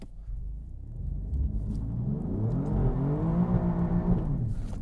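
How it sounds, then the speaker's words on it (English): An Alfa Romeo Giulia QV on Continental DWS06 Plus all-season tires spins its tires in manual mode, the engine note rising and climbing in a strong, close rev. "So I got it to spin in manual mode, but the car stays perfectly straight"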